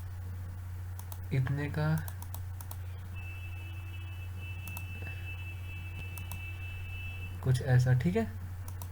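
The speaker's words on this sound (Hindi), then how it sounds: "click click click click click and then click" Computer mouse clicks during a SolidWorks sketching session, a few soft, quick taps spread between bursts of Hindi speech, faint under a steady low hum.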